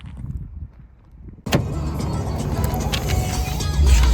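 Quiet interior murmur gives way to a sudden louder rush of road and engine noise as a VW Polo 1.0 TSI with DSG gearbox pulls away and gathers speed.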